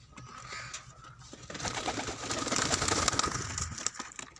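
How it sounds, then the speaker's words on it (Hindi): Soft, repeated cooing from a group of pigeons nearby, a low murmuring chorus that swells toward the middle, with a faint rustle or flutter. "ये जी कबूतर इधर इकट्ठे हुए बैठे हैं"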